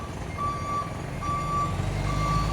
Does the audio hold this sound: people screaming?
no